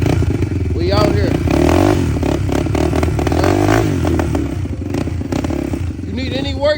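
A dirt bike engine starts and warms up at a home repair session, its loud, rough idle and revs crackling steadily close by. Excited voices talk over the engine throughout.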